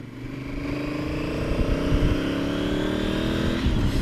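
A 2018 Honda Africa Twin Adventure Sports motorcycle is ridden at speed, its engine droning loud and close with a steadily rising pitch as it accelerates, under heavy wind rush.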